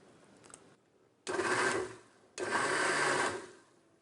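Kitchen mixer grinder blending amukkara fruit with a little water in two short, loud whirring pulses with a brief pause between, preceded by faint handling noise.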